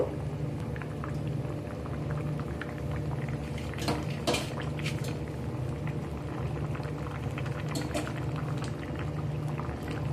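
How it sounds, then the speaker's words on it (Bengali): Fried fish dropped into a potato fish curry simmering in a pot, a continuous bubbling boil with a couple of brief splashy clatters, close up and without speech. "ভেজে রাখা মাছগুলো দিয়ে দিলাম।"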